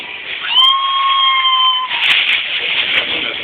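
A cat yowls in a long, drawn-out tonal cry that holds steady for over a second before breaking into a rougher, noisier growl, loud and close with no talking over it.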